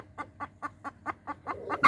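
A hen clucks in a quick, regular series of about eight close, distinct clucks, rising slightly in intensity toward the end, with no voices.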